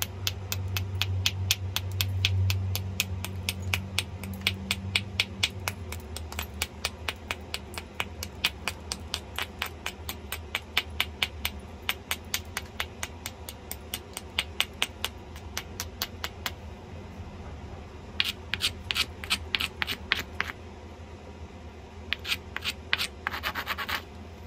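A stone biface is thinned by flintknapping with stone and antler tools, giving many sharp clicks and ticks with scraping in between. The strikes come in irregular bursts and are heard close and quiet, with no voices.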